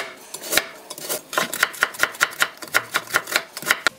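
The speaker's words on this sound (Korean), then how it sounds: "당근도 채를 썰어줍니다" Carrot being julienned with a knife on a cutting board, fast sharp chops that settle into an even rhythmic run of about a dozen close taps, no speech.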